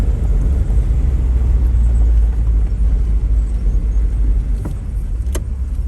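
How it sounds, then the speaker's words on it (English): Cabin sound of a 1989 Toyota Tacoma SR5 4x4 pickup with a 3.0 V6 and five-speed manual cruising on a highway: a loud, steady low engine and road rumble, with a couple of faint clicks near the end. "we're gonna get on the highway and drive down the road"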